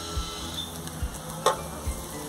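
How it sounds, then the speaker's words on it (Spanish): Onion frying in a pan while being cooked with tomato and garlic, a steady soft sizzle with a few stirring knocks, fairly quiet and with no talking. "ya se está quemando la cebolla"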